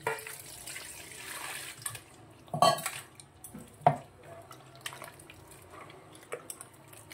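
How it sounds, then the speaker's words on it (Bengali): Water pours into scooped-out bael fruit pulp for a sherbet, with light splashing, drips and a few sharp clinks of a spoon against a bowl, close and fairly quiet. "এবার একটু জল দিতে হবে, জল না দিলে তো গোলানো যাবে না।"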